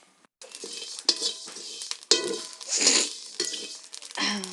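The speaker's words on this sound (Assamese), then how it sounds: "মই সান্দহ ভাজি আছোঁ এতিয়া।" Sandoh rice being fried over a wood fire for Magh Bihu, with a utensil stirring and scraping it around the pan in repeated clinking, sizzling strokes, close and fairly loud, with no talk.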